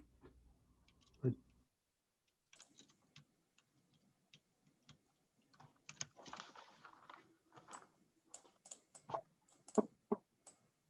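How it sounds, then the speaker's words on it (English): Soft, irregular keyboard clicks tap away quietly in bursts, with a faint voice briefly in the background. "Looks like she's typing"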